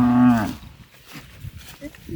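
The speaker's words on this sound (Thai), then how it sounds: "วัวร้องหาลูกแล้วตามหาลูกเขาเดี๋ยวลูกเขาก็มา" A cow lows loudly and close by, calling for its calf out in a rice field pasture, one long moo at the start trailing into quieter rustling and faint farm background.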